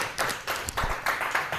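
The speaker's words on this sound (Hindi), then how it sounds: "इनके लिए जोर से ताली बजाएंगे एक बार" A church congregation claps for a pastor after his sermon, a short burst of scattered, fairly close applause with uneven clap rhythm and no talking over it.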